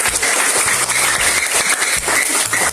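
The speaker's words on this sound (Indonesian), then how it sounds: "Berikan aplaus untuk" A classroom of students applauds, a dense, steady burst of clapping that stays loud for the whole stretch.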